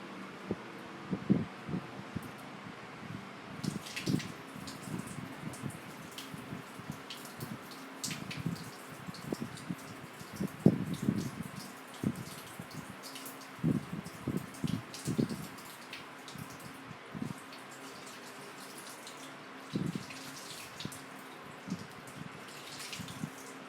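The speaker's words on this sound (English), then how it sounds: "we're going to wash hand and towel dry again" Hands washed under a running tap, with steady water flow and irregular splashing and dripping for the whole stretch, fairly quiet and close, with no talk.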